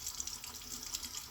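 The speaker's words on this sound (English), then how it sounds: "Let me rinse this tub off while I'm yakking." A tub being rinsed under a running bathroom tap, a steady close splash and hiss of flowing water with no talk.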